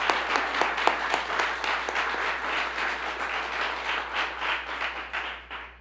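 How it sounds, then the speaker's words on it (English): At a governor's budget announcement, the audience claps in a dense round of applause with distinct nearby hand strikes, holding steady before tapering off at the end. "I want to give him a round of applause for his integrity leadership."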